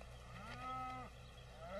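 A single drawn-out moo from a water buffalo, fairly faint and alone, rising briefly then fading.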